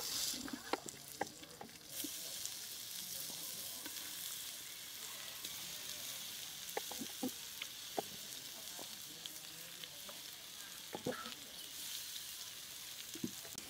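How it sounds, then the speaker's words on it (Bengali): Salt-and-turmeric-rubbed pieces of a large 3 kg briquette fish fry in a frying pan with a faint, steady sizzle and scattered spitting pops of oil throughout, with no voices. "এখন মাছগুলো ভেজে নেব।"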